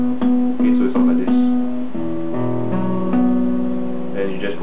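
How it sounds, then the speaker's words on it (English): Cascading artificial harmonics ring out on a guitar, a rapid run of bright, bell-like overlapping notes that sustain into one another, close and clear with no talking. "we're gonna do this thing called cascading harmonics or waterfall harmonics"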